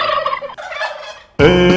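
A turkey gobbles in short bursts, a rapid warbling call repeated three times, alone and close, with the last gobble loudest and fullest in a children's animal song.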